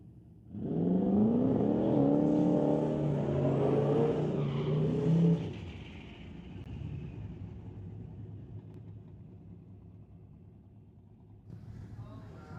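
Fox body Mustang drag cars idle loudly at a drag strip, their engines rumbling and revving for several seconds before the noise drops to a distant low drone.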